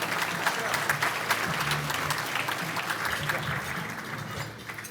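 Applause from a dinner audience greeting a dignitary at an annual mayors dinner, a dense, continuous patter of many hands with crowd murmur and some voices mixed in, tapering slightly at the end.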